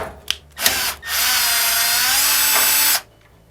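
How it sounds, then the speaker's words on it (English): A cordless power drill whines steadily while backing Phillips head screws out of a Maytag dryer, a few short starts followed by a long, loud, close run that stops abruptly. "We're going to remove 2 Phillips head screws, and these come off pretty easily."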